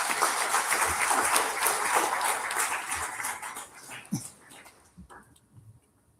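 Audience applause at an office annual day celebration: a dense, steady wash of clapping that thins and fades out after about four seconds, leaving scattered quieter sounds.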